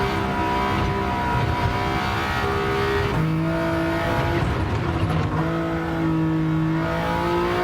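Race car engine in Gran Turismo 7 drones loud and steady, its tone stepping down near the third second and climbing again through shifts, with faint tire noise beneath; no voices.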